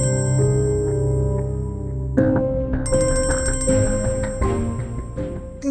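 A mobile phone ringtone plays loudly and steadily for the whole stretch as a repeating electronic melody, getting denser and brighter partway through, with no voices over it.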